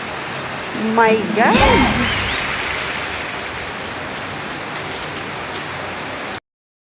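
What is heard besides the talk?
heavy rain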